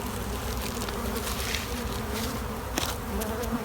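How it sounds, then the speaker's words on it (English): Dense, continuous buzzing of many honeybees close by at a hive, a thick droning hum with occasional sharper passes near the microphone. "Much higher number of bees here."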